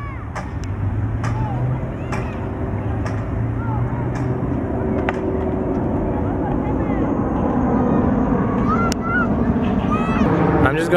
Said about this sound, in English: And we got another airplane.